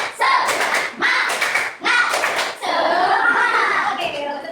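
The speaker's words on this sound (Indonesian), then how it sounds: "ayo, tepuk semangat. Tepuk semangat." A classroom claps a rhythmic spirit-clap routine in three loud, close bursts of fast hand clapping mixed with children's voices and chanting.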